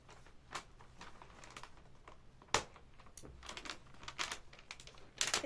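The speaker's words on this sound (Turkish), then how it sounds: "O yüzden hemen açacağım ama şurayı bantlamışlar." A taped cargo parcel is pulled open, giving quiet crinkling and rustling of plastic wrap and tape with a few sharp tearing bursts spread unevenly throughout, and no talking.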